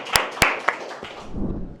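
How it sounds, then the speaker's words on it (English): Audience at a school speech competition clapping for a student speaker: three sharp, spaced claps, then a softer scattered patter as the applause fades. "Big clap for him."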